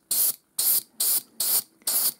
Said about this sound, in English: Right, I'm going to start spraying it.